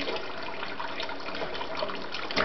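Water splashes and sloshes continuously in a full container, a dense close rush of noise with no voices.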